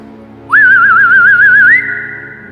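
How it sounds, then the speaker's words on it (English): A single clear whistled signal, loud and close: a rising swoop into a wavering trill that settles on a steady high tone for about two seconds over a soft background drone. "all he needed to do was whistle"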